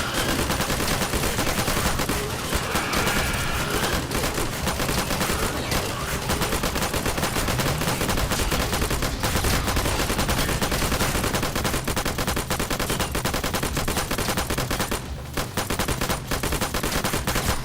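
Wall turrets in Garry's Mod firing nonstop, dense rapid machine-gun bursts packed with crackling shots that fill the whole stretch. The sound is loud and continuous, with no clear speech over it.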